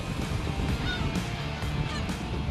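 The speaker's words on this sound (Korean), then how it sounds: "고소한 멸치 냄새 맡고 갈매기들도 만찬을 즐기러 찾아왔습니다" Seagulls feed on anchovies around a fishing boat. Several gulls call in repeated honking cries over a steady background wash, some near and some farther off.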